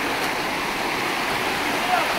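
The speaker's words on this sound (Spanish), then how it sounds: "Qué chulo el río." A river flows with a steady, close rushing wash that fills the whole moment without a break.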